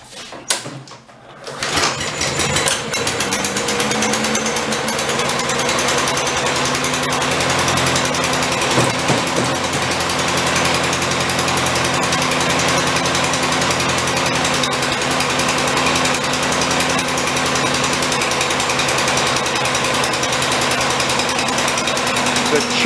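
A junked lawn mower engine catches after a pull-start, with the choke still on, then runs in a loud, rapid, steady chatter that holds for twenty seconds.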